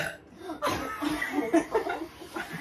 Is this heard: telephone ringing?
no